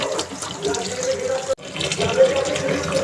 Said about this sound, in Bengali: এদিকে তরকারি তরকারিগুলো ধুয়ে নিচ্ছি সিম আলু আর